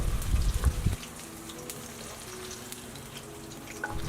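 Garlic and chili frying in hot oil in a wok make a steady crackling sizzle, close and continuous, with a brief louder burst of clatter at the start.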